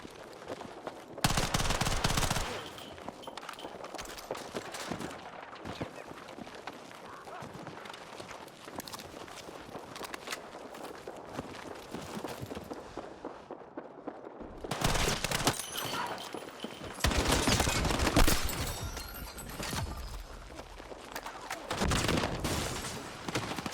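Battlefield video game gunfire: loud, dense bursts of rapid automatic fire open the stretch, quieter scattered shots and movement follow, then heavy sustained firing returns near the end, with occasional voices in between.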